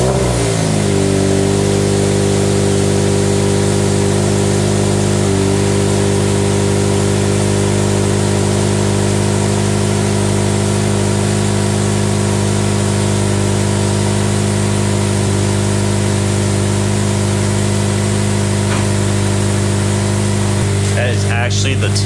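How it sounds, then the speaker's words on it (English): A 2020 Toyota 86 with an Invidia R400 aftermarket exhaust fires up and settles into a loud, steady idle with a deep rumbling exhaust drone, a few blips near the end. "this will be the first start of the Invidia R400 for my 2020 Toyota 86"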